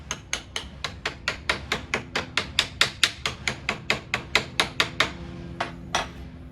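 Hammer driving a washer into wood on a trucker's lounge chair build: about twenty evenly spaced sharp blows in a fast steady rhythm, close and loud, slowing for the last few strikes.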